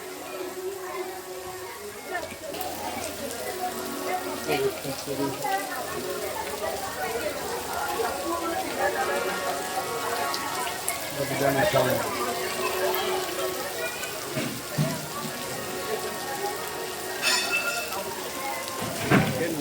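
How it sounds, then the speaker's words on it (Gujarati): Steady rain falls on surfaces in Bagdana town, Gujarat, in late October as a dense, continuous patter with scattered drips, while people talk over it. "અહીંયા વરસાદ પડ્યો એ તમે જુઓ"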